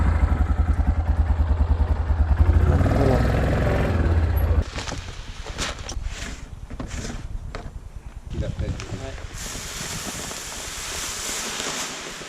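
A farm quad bike engine runs loud and steady for several seconds, then gives way to lower rumbling, clatter and wind buffeting with occasional voices as rain begins in the field.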